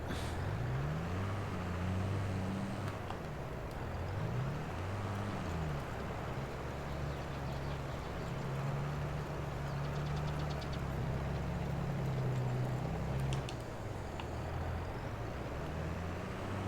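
A tractor engine in Farming Simulator 22 runs continuously with a low droning rumble that rises and falls in pitch as it revs and works across a field, steady and fairly close.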